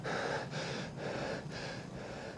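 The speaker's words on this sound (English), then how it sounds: "He's breathing all hard. He ran." A man on a TV show breathing hard after running, heavy rhythmic panting in about four or five close, audible breaths, heard without speech.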